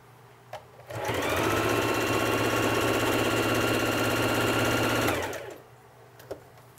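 A Singer Heavy Duty sewing machine stitches through eight layers of cotton in one steady, loud, continuous run of about four seconds, starting and stopping abruptly with faint handling clicks before and after.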